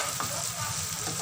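Chopped tomatoes and onions fry in a pan with a steady, close sizzle that stays even throughout, without any talking.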